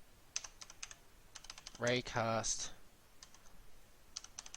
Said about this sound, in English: I was just making sure I was typing it right